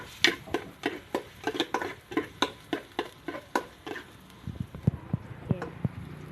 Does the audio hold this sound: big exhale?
no